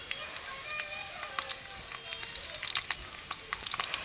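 Dried red chillies and spices frying together in oil for a tangy olive pickle, a faint, continuous crackling sizzle with scattered pops, heard close with a quiet background.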